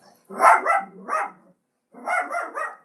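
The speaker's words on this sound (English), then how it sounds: "my dog is barking" A dog barks close by in two short groups, a few sharp barks, then a pause and another quick cluster of barks, with no one talking.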